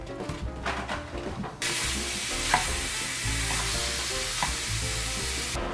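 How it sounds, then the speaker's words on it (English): Sausage frying on medium-high heat in a large pan gives a loud, steady sizzle that jumps up partway through, with occasional scrapes and knocks from stirring, heard up close without talk. "heat up a medium-sized pan, large-sized pan, and we're going to cook our sausage"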